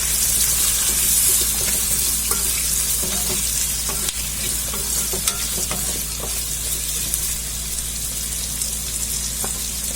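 Roughly chopped onion and vegetables frying in a pan for malai kofta gravy, a steady loud sizzle filling the whole stretch, with occasional light stirring scrapes close by and no voices.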